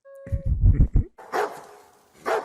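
A dog in the 2002 film Signs gives a few quick, loud barks close by, followed by softer whimpering or snuffling sounds after a short pause.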